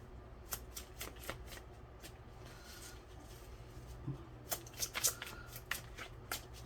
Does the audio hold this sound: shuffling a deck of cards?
yes